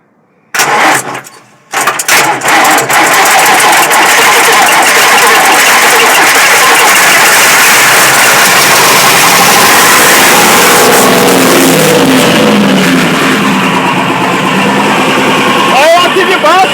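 Diesel engine of a Fiat 190 truck cranking, catching and settling into a loud, steady idle with a rough, rattly tone, running alone after a short quiet start.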